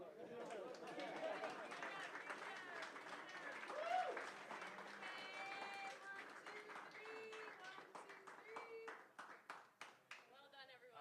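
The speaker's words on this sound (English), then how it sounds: "All right, everybody give them all a round of applause." Audience applause at a university startup demo day, steady clapping from a crowd mixed with loud cheering and overlapping voices, continuing for about ten seconds before thinning into scattered claps and chatter.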